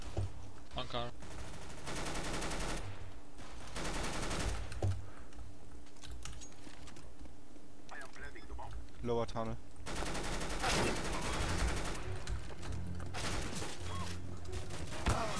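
Rapid bursts of gunfire and booming blasts in CS:GO crackle loudly, with dense repeated shots and pauses between volleys.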